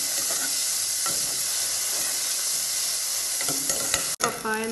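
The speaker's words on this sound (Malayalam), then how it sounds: "ഇനി കുറച്ച് നെയ്യ് ഈ പാനിലേക്ക് ഇട്ട് കൊടുത്തിട്ട് ഈ പപ്പായ നമുക്കൊന്ന് വഴറ്റിയെടുക്കണം." Green papaya sautéing in hot ghee in a pan, a steady close sizzle with intermittent stirring scrapes, then a sharp clatter of the utensil near the end.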